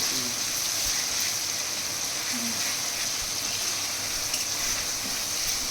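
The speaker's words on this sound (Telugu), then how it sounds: "బ్రౌన్ కలర్ వచ్చేదాక వేయించాలా ఈ ఆనియన్ పేస్ట్ని" Onion paste frying in oil in a home kitchen, cooked until brown for a fish curry: a steady, close, continuous sizzle with bright crackle, alone with no talk and unchanging throughout.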